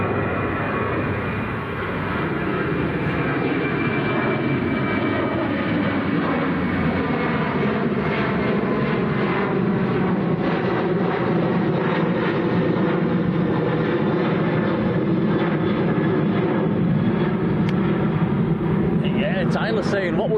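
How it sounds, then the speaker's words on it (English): A Ryanair airliner moves at Manchester Airport, its jet engines making a loud, sustained roar that swells gradually over about twenty seconds, with people talking beneath it. "Here comes the Ryanair to Dubbers."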